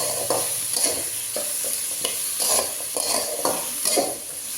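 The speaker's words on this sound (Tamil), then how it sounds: "பூண்டு சின்ன வெங்காயம் தக்காளி பழம் இது மூணுமே போட்டு நல்லா நான் வணக்கி ட்ரையாக வணக்கிடலாம்" Garlic, shallots and tomatoes sizzle in a pan while a spoon stirs them in regular scraping strokes, the frying hiss steady underneath, close and moderately loud.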